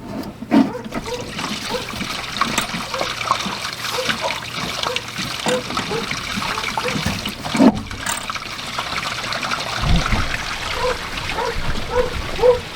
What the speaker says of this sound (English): We have water running.